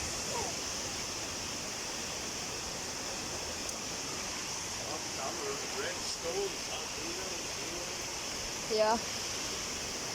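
Clear stream water flows steadily in Absam, Tirol, Austria, a constant broadband rush close by, with a person briefly speaking over it.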